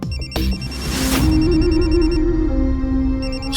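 A telephone rings with a repeating electronic bell-like trill, loud and close, with a sharp click near the start and a steady tone underneath as the ring cycles on without any voices.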